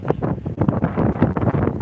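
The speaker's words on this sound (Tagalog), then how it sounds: "Ang lakas ng hangin." Strong wind at the seaside, roaring and buffeting steadily against the microphone in close, gusty bursts with no voices.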